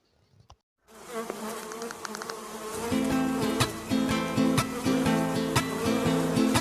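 Honey bees buzzing at hives in an apiary, a dense steady drone that starts after a short near-silent opening and holds loud and close, with repeated rhythmic knocks and tones layered over it.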